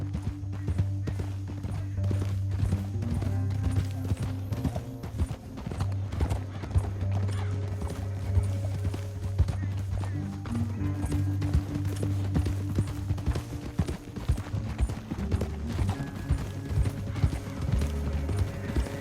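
Steady clip-clop of galloping hooves, loud and continuous, with a low droning score running underneath and no voices.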